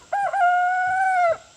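A rooster crows once in a single drawn-out, clear call lasting over a second, moderately close on a quiet farm with nesting boxes.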